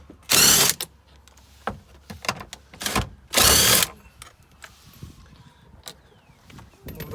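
Two bursts of a power tool spinning out 10mm bolts from a 2008 Chevy Equinox door, each whir about half a second long, close and loud, with quieter clicks and handling of parts between and after.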